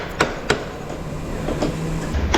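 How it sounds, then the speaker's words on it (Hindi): A hammer striking parts of a Bajaj Dominar 400 motorcycle during servicing in a workshop: a few sharp metallic knocks at irregular intervals over a steady low workshop hum and background noise. "आप देख रहे हो डोमिनार हमारी पे हथौड़े लग रहे हैं"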